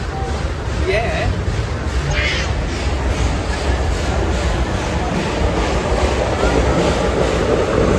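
A Roaring Camp Railroads steam train gives off a continuous loud rumble and hiss, steady from start to finish, with faint voices of people nearby under the noise.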